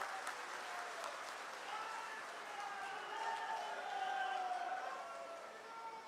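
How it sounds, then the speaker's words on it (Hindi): A crowd applauds to welcome the Chief Minister at a large public rally in Sultanpur, a steady, fairly distant wash of clapping that swells slightly toward the end, with faint background voices. "एक बार जोरदार तालियों से माननीय मुख्यमंत्री जी का"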